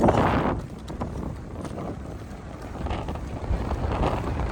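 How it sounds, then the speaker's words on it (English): Strong wind buffets the microphone while riding a Tern Link D8 folding bike along a gravel road toward meadows, a loud, uneven roaring rumble that surges at the start and end. "Oh, very windy."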